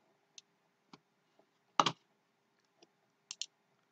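A computer mouse gives a few faint, sparse clicks at irregular intervals, with one slightly louder double click near the middle, in an otherwise quiet room.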